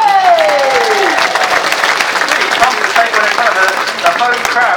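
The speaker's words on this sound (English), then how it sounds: "Please make some noise, raise the roof for your winner, Daniel" A home crowd at the Norfolk Show 2014 freestyle motocross display applauds and cheers loudly for the winning rider, a dense steady wash of clapping and shouts filling the whole stretch, with a falling whistle-like tone near the start.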